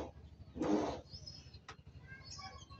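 A racing pigeon coos softly nearby amid some light rustling and faint background chirps; no speech.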